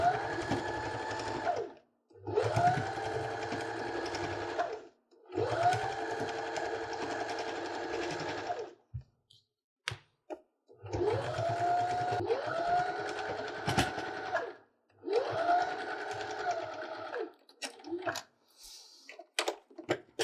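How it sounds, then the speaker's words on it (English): A sewing machine top stitching through quilt layers runs in several steady bursts of rapid mechanical whirring, separated by short pauses, close and fairly loud. "That's the quickest bit of top stitching I've done in a long time."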